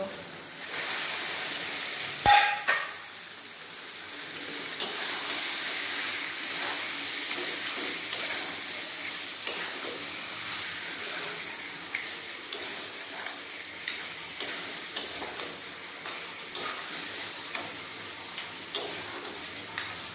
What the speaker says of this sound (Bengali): মশলা ভালোভাবে কষানো হয়ে গেছে, এরপর দিয়ে দেব মাংস।